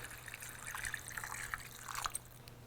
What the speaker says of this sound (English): a little bit of water just to soften the sauce